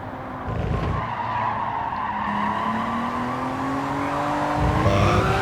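Tires of a Honda NSX skid and squeal around Tsukuba Circuit in the Gran Turismo 7 racing game, a sustained rising screech over steady engine drone, loud and continuous throughout with a brief engine surge near the end.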